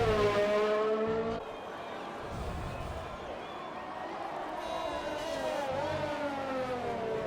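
A Racing Point Formula 1 car at speed down the straight at the Belgian circuit, its high engine whine holding steady then rising in pitch, loud and continuous with other cars nearby.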